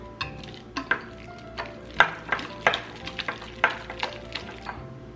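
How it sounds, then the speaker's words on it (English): Pumpkin puree with spices and flour is whisked in a bowl, giving close, uneven clicking and tapping strokes of the whisk against the sides over a quiet background. "So we're just going to whisk this until everything is well combined."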